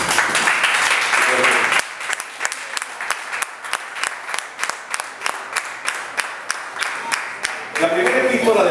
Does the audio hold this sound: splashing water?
no